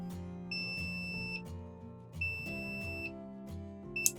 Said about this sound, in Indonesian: dia akan bunyi buzzer begitu sebanyak 5 kali